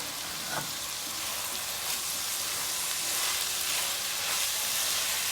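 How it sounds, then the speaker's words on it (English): Karela (bitter gourd) pieces with chopped coriander fry over a high flame, heard as a loud, continuous hissing sizzle up close with faint stirring scrapes beneath it. "I'm going to keep stirring it for 5 minutes while it's on a high flame"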